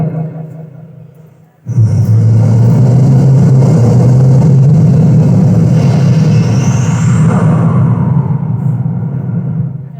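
Voice mimic someone imitates an airplane taking off, with a loud, continuous rushing-air roar and a rising whistle over it. The sound starts abruptly after a brief, quieter lead-in and stays close and powerful.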